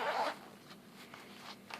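A zipper being pulled upward on a Hit-Air Advantage airbag vest: a loud close rasp at the start, then softer, fainter zip strokes and small clicks.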